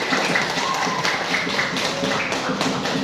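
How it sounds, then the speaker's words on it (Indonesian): A classroom group claps for the first group of presenters, steady brisk hand clapping from a small crowd that holds a constant level from start to finish. "Aplaus dulu untuk kelompok 1"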